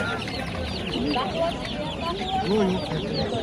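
Chickens and chicks clucking and chirping together at a busy Uzbek poultry market, a steady close chorus of short calls with market bustle and faint voices underneath.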